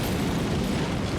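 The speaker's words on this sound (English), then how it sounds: "The force of the fire is extraordinary, hurling Khan almost 3 metres back into the alley and shaking the very foundations of the building" A petrol fire explodes inside a building, a dense, loud, sustained roaring rumble of broadband noise with no breaks throughout.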